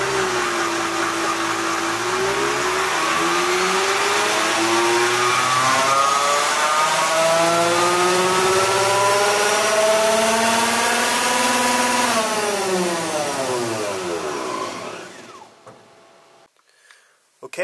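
A Tesla Model 3 runs a dyno pull at 95% state of charge. A loud electric motor whine climbs steadily in pitch, then sweeps back down and cuts off into near silence.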